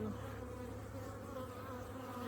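Honeybees buzzing at a hive, a steady dense drone that holds close and constant throughout.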